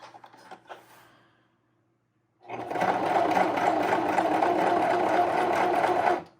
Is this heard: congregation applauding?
no